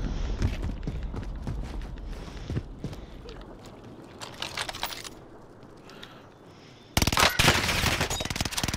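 Gunfire in a shooter video game: sharp single shots and rapid bursts crack out in irregular clusters, briefly thin out, then return as a loud, dense volley near the end.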